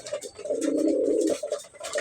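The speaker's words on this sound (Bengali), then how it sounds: "আমার সবচেয়ে সেরা কবুতর" A pair of pet pigeons coo nearby, a soft, throaty rolling coo that swells and then breaks off, heard alone without any voices.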